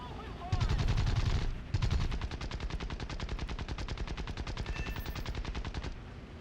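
Aircraft machine guns in War Thunder fire in a long rapid burst of evenly spaced shots, loud and close over a steady engine drone, lasting several seconds before cutting off.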